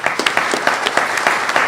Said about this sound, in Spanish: recibimos con un aplauso a Edna.